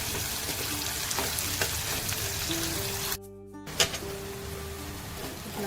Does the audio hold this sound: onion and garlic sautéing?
yes